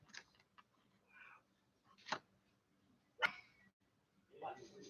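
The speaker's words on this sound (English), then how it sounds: "That's my dog seeing a ghost." Dog barking in a few short, separate yips and barks spaced across the stretch, moderately close against a quiet background, with soft murmurs between.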